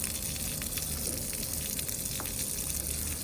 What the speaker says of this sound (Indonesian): saat keadaan hidup pun keran ini masih bocor